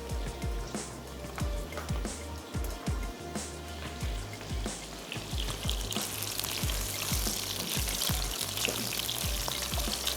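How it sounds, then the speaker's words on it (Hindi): Steady sizzling and crackling of masala rice frying in a pan over low heat, with light scraping and stirring clatter, continuous and close throughout. "हल्की आंच पर बस सिर्फ हल्का सा फ्राई कर रहे हैं"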